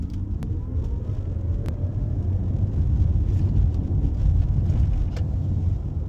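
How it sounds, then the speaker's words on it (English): A 2024 Kia EV9 GT-Line AWD electric SUV pulls away hard from a standstill, heard as a steady low rumble of road and cabin noise with faint motor whine, continuous and fairly loud throughout. "Let's try a fast start from zero and see what this thing does."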